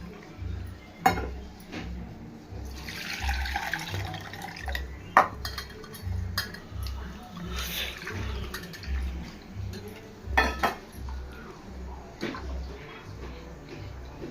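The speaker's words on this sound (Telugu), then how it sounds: "ఇందులో కూడా పోసుకొని అందులో పోసుకో" Tamarind water poured from one vessel into another while preparing sambar: soft, steady splashing and trickling with a few clinks of utensils, close and moderately quiet, with no talking.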